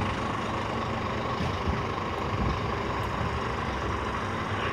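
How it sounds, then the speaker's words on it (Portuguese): Heavy trucks rumble past on a Brazilian highway near Colinas, Tocantins, a steady loud low-frequency drone of engines and tyres with no clear gaps between passes. "Mais uma pancada de caminhão do lado de cá"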